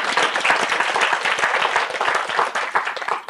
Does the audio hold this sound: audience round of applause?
yes